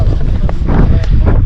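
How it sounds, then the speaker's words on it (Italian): Strong wind on the Po Delta buffets the microphone with a constant low roar and irregular gusts, loud and close, with no distinct voices. "in alcuni punti il vento è più sostenuto, in altri meno"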